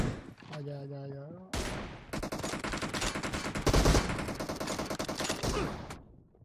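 Rapid bursts of automatic gunfire in the video game PUBG, with a voice speaking briefly at the start before a dense, loud fusillade of repeated shots fills the rest.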